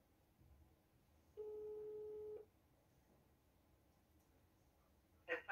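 A single long telephone ringback tone sounds for about a second while a call to a family member connects, standing alone over a faint background hiss, followed by a short burst of sound near the end.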